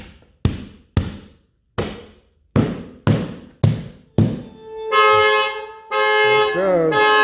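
A Tesla parked with Sentry Mode armed sets off its alarm: seven sharp, loud horn honks in an even rhythm, then a sustained wailing siren tone up close.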